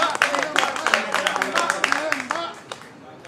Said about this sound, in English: Clap again for Salif.